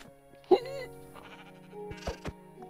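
A sheep bleats once, close and wavering, followed by quieter bleats and bumps, all against a low background hum.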